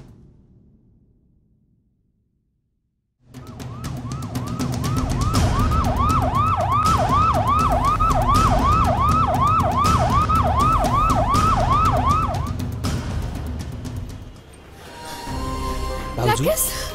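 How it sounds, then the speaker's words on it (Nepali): An ambulance siren wails in a fast repeating up-and-down pattern, loud and close for about nine seconds, before it fades and voices and movement take over in a Nepali film scene. "आकाश केटा एम्बुलेन्सलाई फोन गर त"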